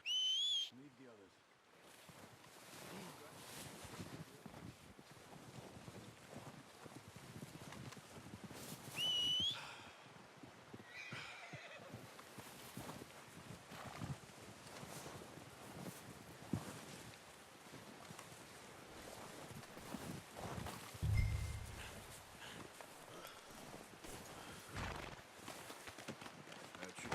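Horses in Red Dead Redemption 2 plod along with soft, steady clip-clop hoofbeats under an outdoor ambience, accompanied by occasional whistles and a snort, with people speaking at times over the movement.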